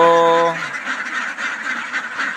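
Pet ducks (itik) at a backyard pen quacking in a dense, continuous chorus, after an opening low tonal hum fades out in the first half-second.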